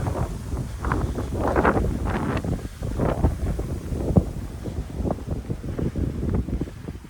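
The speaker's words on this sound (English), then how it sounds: "sorry about the wind" Steady wind buffeting a microphone outdoors in open rolling countryside, a rough, gusting roar with no speech, loud throughout.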